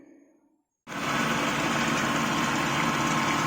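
A hydraulic gear pump on a test rig, run at around 1150 rpm, cuts in abruptly from near silence and then hums loud and steady with a dense mechanical whine and no pauses.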